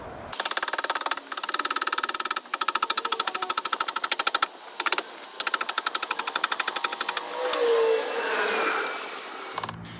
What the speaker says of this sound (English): I'll just take the chisel the whole way around there and start chipping it off